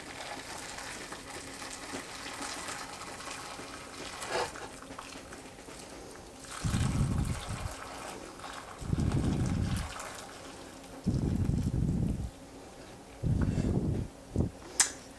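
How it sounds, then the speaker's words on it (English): Boiling water is poured gently into a loaf pan of gyro meat in bursts, with several separate trickling pours near at hand after a quiet start, no talk over them. "So my water is boiling. I'm going to gently pour in."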